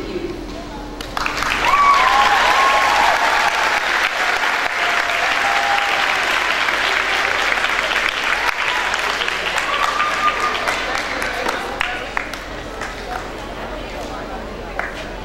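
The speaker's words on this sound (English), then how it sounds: "let's give our speaker another round of applause" A summit audience bursts into sustained applause for a speaker, dense clapping that swells quickly and holds steady for the whole stretch, with scattered cheers and faint voices mixed in.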